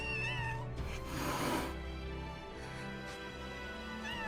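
Small kittens meow in the video game Final Fantasy VII Rebirth, high and thin, repeated a few times over a steady background hum and soft ambient noise.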